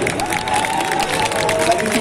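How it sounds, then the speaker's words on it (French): A live audience at a geek convention in Caen applauds and cheers a performer, steady clapping and crowd noise filling the whole clip at close, loud level, with voices mixed in. "Je vous demanderai d'applaudir notre ami Patch"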